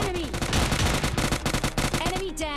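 Rapid automatic gunfire in PUBG Lite, a loud, fast rhythmic volley of shots fired at an enemy inside a house, with a voice talking over the burst.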